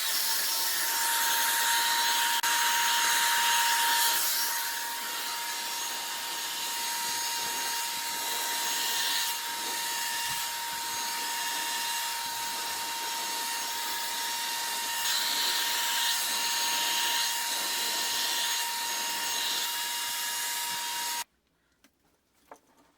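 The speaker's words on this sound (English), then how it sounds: "I'm just going to flip my hair and just blow dry them, and I've got the dryer here." A hair dryer blows with a steady whirring hum and airy rush for about twenty seconds, then switches off abruptly.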